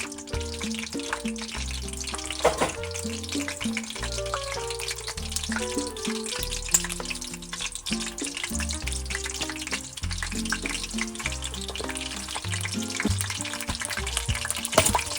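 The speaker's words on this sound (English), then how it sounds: "the oil is popping. So I'm just gonna put the meat in, skin down" Pork belly sizzles skin down in hot popping oil, a constant crackling fry with splatter under music with a steady beat.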